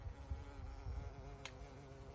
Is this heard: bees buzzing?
yes